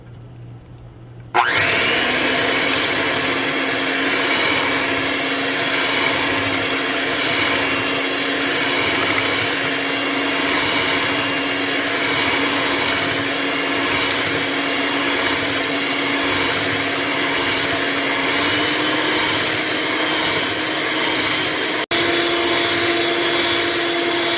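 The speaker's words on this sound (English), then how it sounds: "I actually blended this with a hand mixer for 5 minutes" An electric hand mixer whirs steadily and loudly while blending banana pudding. It starts abruptly after a short quiet lead-in, then holds a constant motor drone whose pitch rises slightly toward the end as the speed changes.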